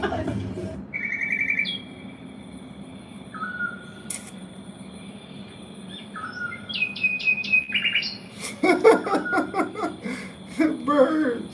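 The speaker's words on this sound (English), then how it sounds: "The bird sounds." Birds chirp and tweet in quick repeated bursts, growing busier and louder toward the end, with voices talking and laughing underneath.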